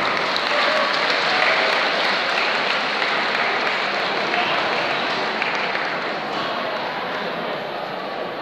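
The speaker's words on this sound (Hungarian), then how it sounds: "Köszönjük szépen a tapsot!" Audience applause at an award presentation during a sausage-making festival in Békéscsaba, a loud, dense and sustained wash of clapping from a large crowd, steady throughout with only a slight fade at the end.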